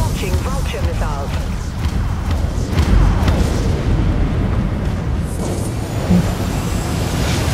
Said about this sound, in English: Launching vulture missiles.